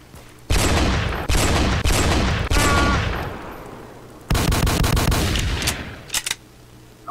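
Loud, close bursts of automatic gunfire in the Roblox game Black Ops 3 Tycoon: several rapid volleys separated by short pauses, then a few quick final shots trailing off.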